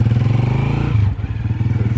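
A motorcycle engine running close by, a loud low rhythmic thumping idle with a brief clattering stumble partway through before it settles back into its steady chug.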